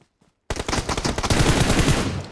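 Rapid bursts of automatic gunfire from a mobile battle-royale shooter, loud and dense, starting abruptly after half a second of near-silence and hammering on without pause.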